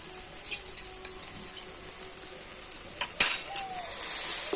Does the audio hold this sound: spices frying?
yes